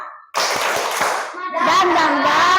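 Children in a grade 4 primary school class clap a rhythmic 'tepuk semangat' chant together. Several loud, quick claps are followed by the children chanting in unison.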